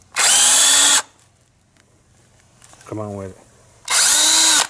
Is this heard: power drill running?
yes